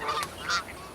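A Canada goose gives a couple of quick, nasal honks at close range, clear and alone.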